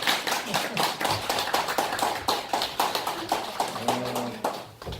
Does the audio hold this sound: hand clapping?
yes